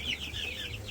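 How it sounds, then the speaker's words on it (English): A two-week-old Cornish Cross broiler chick, a commercial meat bird, clucks softly and continuously up close over a faint background hum. "this is one of the Cornish Cross birds"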